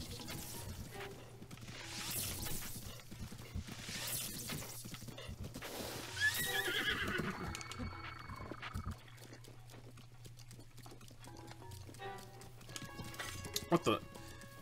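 A horse in Zelda Breath of the Wild gallops with clip-clop hoofbeats and snorts amid game combat sounds, a player talking over it throughout.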